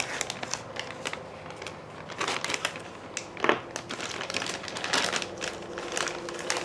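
A plastic bag of parts for a Losi FiveT electric conversion is cut open and handled, giving close, continuous crinkling and rustling with sharper crackles and small clicks throughout.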